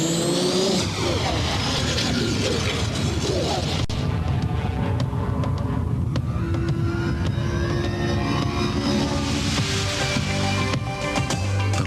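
A Volvo 850 Sports Wagon drives and revs in a 1990s radio ad spot, engine rising and passing steadily for the whole stretch, loud and continuous with music-like tones layered over it.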